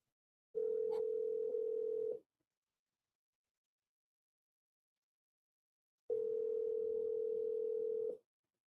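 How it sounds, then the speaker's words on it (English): A telephone voicemail recording tone: two long, steady, even-pitched beeps, each lasting about two seconds and separated by a stretch of silence, clear and alone. "At the tone, please record your message."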